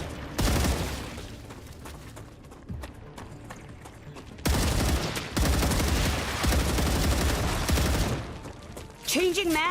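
Gunfire while battling bugs in the video game StarRupture: dense bursts of rapid shots fill most of the clip, dropping briefly to a lull near the middle before resuming loud and continuous.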